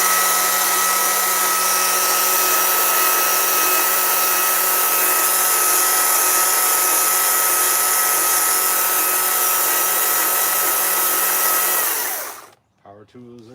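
Power tool running steadily on a chainsaw wood carving, a loud continuous whine with a sustained hum that holds for about twelve seconds and then cuts off abruptly, leaving near silence.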